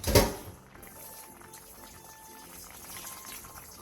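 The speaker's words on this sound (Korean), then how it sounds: "물이 끓어오르면 중약불로 줄여 15분에서 20분 정도 더 끓여주세요" A pot of braised tofu simmers with low, soft bubbling and faint gurgles after a brief knock at the start, staying quiet and even throughout.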